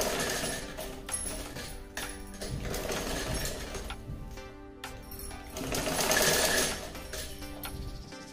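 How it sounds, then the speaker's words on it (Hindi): A sewing machine stitches a sofa cover in rapid mechanical bursts broken by short pauses. The whirring is fairly quiet but close, with one louder stretch near the end. "और इसके बाद देखिए मैं सब सिल ले रही थी"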